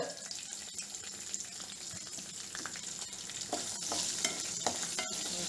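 Food frying in a pan for a South Indian spicy curry, stirred steadily with scraping and sizzling, a continuous close crackle with brief clinks and no talk.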